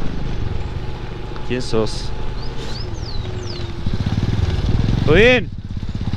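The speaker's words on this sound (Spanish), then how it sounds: "Vi otra moto atrás. Escuché el escape." Another motorcycle's exhaust approaches from behind on a gravel road in the Tarija Chaco, a steady engine drone underneath with a louder pass swelling near the end while people talk over it.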